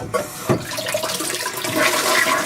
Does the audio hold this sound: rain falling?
no